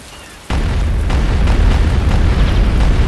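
Heavy artillery shells from Imperial forces in Star Wars: Empire at War hit the battlefield in a sudden loud boom, then keep rolling with dense, continuous rumbling blasts that overlap and never die away.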